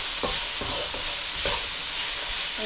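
Stirring of spicy Nepalese masala pasta ingredients in a pan, with a few scraping strokes over a steady sizzling hiss, close and moderately loud.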